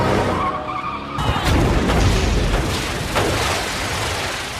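A car screeches and skids out of control in a film scene, with a loud burst of tire squeal and rough, roaring noise after a brief lead-in, heard close and alone.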